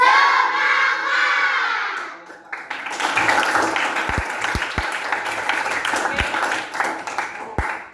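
A classroom of schoolchildren shouts together in unison after a short spoken prompt, a loud burst of young voices with some clapping mixed in, filling the room.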